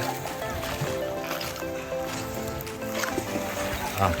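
Boats moving on the water near a beach cave in Quezon: a steady droning engine hum with lapping, sloshing water, fairly loud and continuous, with faint voices in the background.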